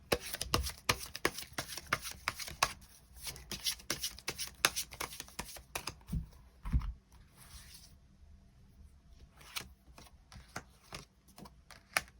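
Tarot cards being shuffled and drawn make rapid papery flicks and taps close up, busy at first and then thinning into sparse soft clicks and slides.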